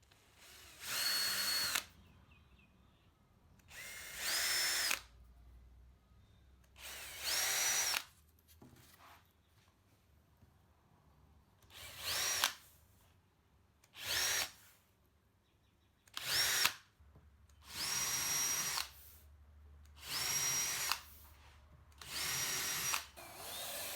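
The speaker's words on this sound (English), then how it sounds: "with the panel in place, I drilled pilot holes into the rebate." A power drill boring pilot holes into the wooden rebate of a display case, ten or so short whining bursts separated by brief quiet gaps, close and loud.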